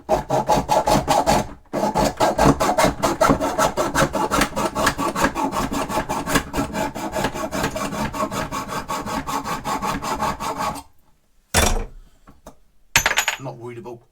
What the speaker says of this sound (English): you need to just hacksaw the end off